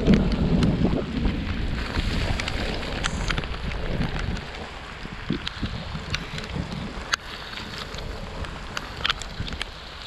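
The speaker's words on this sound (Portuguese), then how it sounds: "Começou a chover agora, faltando 60 quilômetros pro nosso destino final." Steady rain falls during a gravel bikepacking ride, a dense continuous hiss with close spatters and occasional sharp hits, louder at first then easing slightly.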